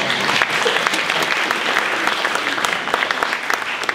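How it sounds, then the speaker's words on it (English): Applause from a crowd at a gathering in Manassas, a steady stream of clapping with individual sharp claps popping out clearly. It is moderately loud and keeps an even level for several seconds. "We should give him another round of applause"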